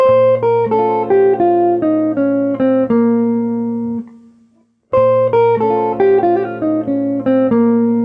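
Clean jazz guitar notes walk down a tonic minor scale in a rhythmic line, played twice with a short ringing pause between the passes.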